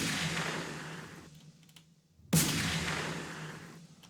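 A booming snare bomb drum effect for electronic music, layered with a gunshot sample, hits twice: a long reverberant crash decaying into near silence, then a sharp loud impact swelling into another wide, washy tail.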